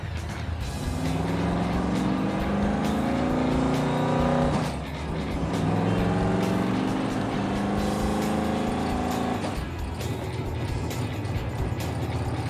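Engine of a 1970 Dodge Super Bee muscle car while driving at speed on the road, a steady loud drone that rises through the gears with two brief dips as it shifts, and no talking.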